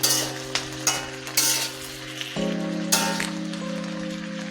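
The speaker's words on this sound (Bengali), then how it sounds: "ডাউলগুলা সবজির সাথে যেন ভালোভাবে মিশে এভাবে নাড়াচাড়া করে নিতে হবে।" Dal and vegetables are stirred in a new wok, with scraping strokes and a soft sizzle over a steady background hum that shifts pitch midway.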